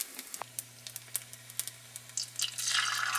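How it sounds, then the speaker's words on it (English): Jalebi batter dropped into hot frying oil, starting with scattered small pops and crackles over a low hum, then building into a louder, continuous sizzle near the end. "to check the oil, just put a little bit and see if it sizzles like this"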